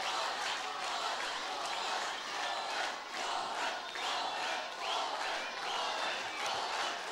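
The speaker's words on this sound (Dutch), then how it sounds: "Applaus voor de band van Polle," Fans at the Junior Songfestival 2011 semi-final applaud and cheer for Polle's band, a fairly distant, sustained roar of crowd noise and clapping with pulsing swells of shouts across seven seconds.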